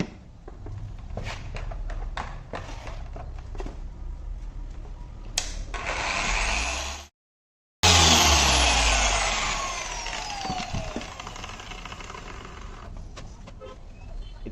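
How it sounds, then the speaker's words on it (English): A machine polisher with a yellow foam pad works on a Suzuki Swift headlight, whirring steadily with brief pauses, one sharp cutout and a few clicks and knocks, close and fairly loud, with no talk. "I'm going to use my yellow foam pad to polish the surface, and I'm going to use classic polish from Shine Supply"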